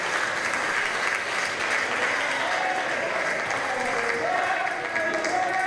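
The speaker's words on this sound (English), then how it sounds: "This capacity crowd here definitely appreciating the action" A capacity crowd at an indoor pro wrestling event cheers and applauds continuously, a dense roar of clapping and shouting with no break.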